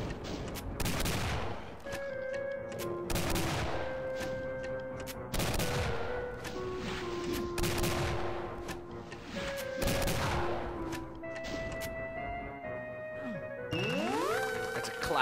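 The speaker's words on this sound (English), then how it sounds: "the rocket launcher is a refined weapon for the refined man." Rocket launcher firing in the Doom: The Golden Souls video game, a series of booming blasts about every one to two seconds with crashing explosions and game music tones, loud and steady throughout.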